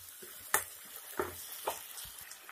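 Onion and tomato frying in a pan with cashews, a faint soft sizzle with a few distinct clicks and scrapes of a spoon against the pan.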